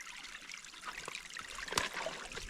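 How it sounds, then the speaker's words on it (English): A small, clean forest creek trickles and burbles steadily in a national forest, with soft watery splashes and a few brighter drips close by, no voices present. "It's a super clean stream."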